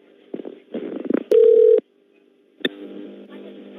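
A phone line to a scam support number redials, giving a short burst of garbled line noise, a steady electronic tone, then silence and a click before crackly connection noise resumes.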